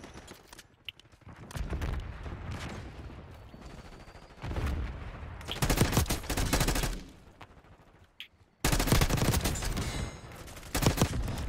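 Sustained gunfire in Call of Duty Black Ops 6, long dense bursts of automatic shots in several waves separated by brief lulls, loud and close.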